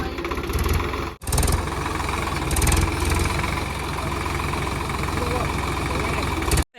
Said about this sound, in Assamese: ট্ৰেক্টৰ আহি ফচি গ'ল।